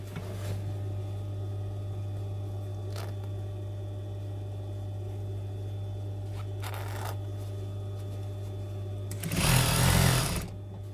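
A sewing machine stitches velvet pile fabric under a steady low hum, with faint mechanical ticks and a louder burst of rapid stitching near the end.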